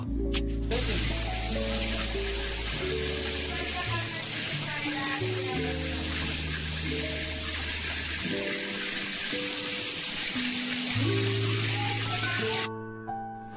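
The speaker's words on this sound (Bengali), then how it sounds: "রোস্টগুলো তেলের ভিতরে দিয়ে দেয়া হচ্ছে। রোস্টগুলোকে আমরা মিডিয়াম ভাবে ভেজে নেব" Chicken roast pieces fry in oil, giving a continuous close sizzle that runs throughout under a steady low tonal background and cuts off near the end.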